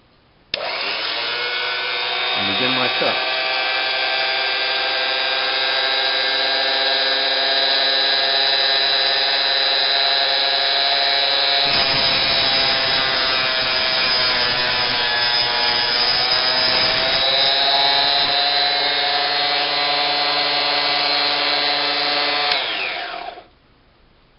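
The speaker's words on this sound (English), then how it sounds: "the Drill Master Mini Cutoff Saw available at Harbor Freight" A Drill Master mini cutoff chop saw whines at a high, steady pitch for over twenty seconds, its tone dipping and grinding as the blade bites through material, then spinning down.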